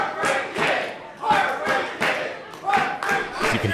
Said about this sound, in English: You can hear the crowd chanting along